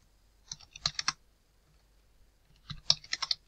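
Two quick bursts of typing on a computer keyboard while a letter is written, with several crisp key clicks in each burst and a short pause between, close and fairly quiet.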